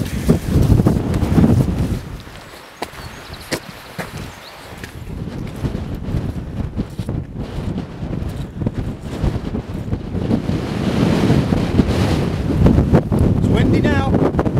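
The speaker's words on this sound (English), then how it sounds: "It's windy now." Strong wind buffets the microphone at the top of the Roaches, a rocky ridge in the Peak District, roaring in uneven gusts that rise and fall throughout while a voice speaks intermittently underneath.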